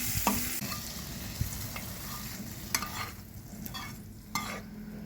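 Paneer cubes fry in a pan with a soft background sizzle, broken by several sharp clinks and scrapes of a spatula stirring close by.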